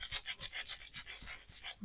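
Kosher salt is rubbed by hand into pistachio cream, making about seven quiet, evenly spaced rasping strokes in a steady back-and-forth rhythm, heard close and alone.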